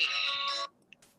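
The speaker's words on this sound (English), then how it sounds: "Sorry about the cell phone." A cell phone ringtone chirps loudly and steadily through a lecture hall for about half a second before cutting off, followed by a faint click and quiet room tone.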